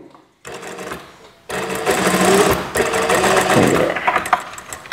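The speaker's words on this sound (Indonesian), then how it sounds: "Saya akan jahit seperti ini." An electric sewing machine stitches fabric for drawstring shorts, a brief whir, a pause, then a loud steady rapid mechanical hum of needle strokes running close up, no speech.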